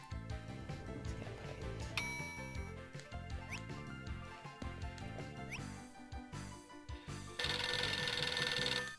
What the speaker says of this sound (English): Telephone's going.